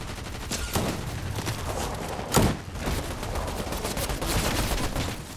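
Continuous rapid gunfire from a Fortnite no-build duo match, dense automatic shots and bursts with a louder blast midway, filling the whole stretch with no voices.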